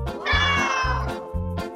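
A cat meows several times in quick succession, loud and close, with drawn-out wavering calls and no talking over them.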